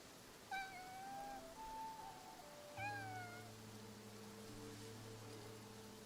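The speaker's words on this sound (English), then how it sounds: "That cat that just passed by stopped making any sound." A cat meows twice in the video game Infinity Nikki, two rising-then-falling calls about two seconds apart, heard alone over a steady hiss of rain-like ambience and low drones.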